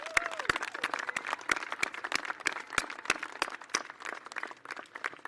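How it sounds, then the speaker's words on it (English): Graduates and guests applaud at a college commencement ceremony, with sharp individual claps standing out near the microphone over a thinner spread of clapping in a large space. "So why don't we give them a round of applause."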